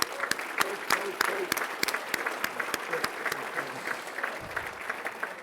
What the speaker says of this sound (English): give them one more round of applause here